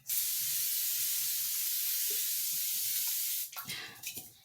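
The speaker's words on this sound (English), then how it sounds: "First, you're going to go ahead and spray your face." Evian facial spray misted onto a face: one long, close, steady hiss lasting about three and a half seconds, then a few faint handling sounds after it stops.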